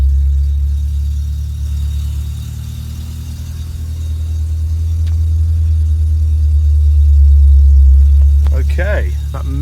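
A Volkswagen Mk2 VR6 engine runs nearby with a low, smooth idle rumble that swells gently as the revs rise and fall, and a voice breaks in near the end.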